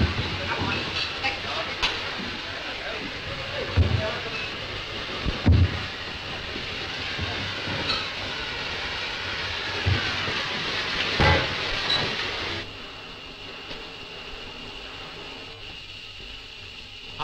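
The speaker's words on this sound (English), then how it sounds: "The trains are waiting to take you down now." Trains idle in a tunnel in a 1935 film, with a long hissing, rumbling hum broken by periodic clanks and bursts of steam, then dropping to a quieter drone. Faint voices are mixed in.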